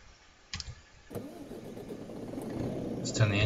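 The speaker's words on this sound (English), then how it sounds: "Let's turn the engine on." Renault truck engine in Euro Truck Simulator 2 cranks briefly, then settles into a steady, rising idle rumble that grows louder toward the end, with a faint click or two before it catches.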